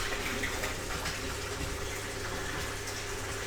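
Water runs through a plate chiller on a home brewery build, flowing slowly as it passes through the plates, making a steady, close gushing rush that holds evenly throughout.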